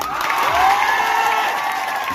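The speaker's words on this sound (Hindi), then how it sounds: "इसलिए अपने लिए जोरदार ताली बजाओ" Clapping and cheers rise from a crowd at an outdoor rally, a dense, steady wash of applause heard from some distance, with a loudspeaker voice ringing faintly underneath.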